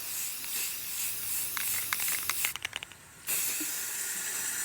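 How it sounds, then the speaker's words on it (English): A continuous hiss of spray from an aerosol can coating a cup, with a few short taps or clicks partway through before the spraying resumes. "and then we spray the whole cup"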